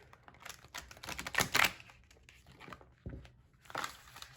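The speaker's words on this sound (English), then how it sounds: "I don't really try to shuffle this one very much." Glossy, sticky cardstock tarot cards are shuffled by hand, producing uneven bursts of slapping and riffling clicks with brief pauses, close up and without talk.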